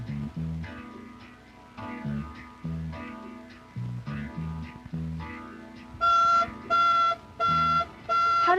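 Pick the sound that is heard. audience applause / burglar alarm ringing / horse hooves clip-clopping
burglar alarm ringing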